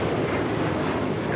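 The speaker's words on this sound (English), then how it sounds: "This is Alaska Airlines 1418 taking off to Guadalajara on the 737-800." Alaska Airlines Boeing 737-800 departing LAX for Guadalajara, heard as a brief, steady, loud jet roar with dense low rumble and no break.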